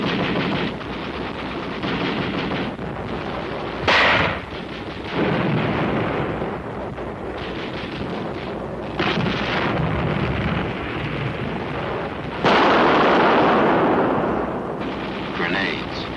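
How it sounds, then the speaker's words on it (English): 60mm mortar fire and shell explosions from the Korean War: several heavy, loud blasts burst out at irregular intervals over a constant rumbling, windy battlefield background. "60mm mortar. Bites like a 75 gun shell."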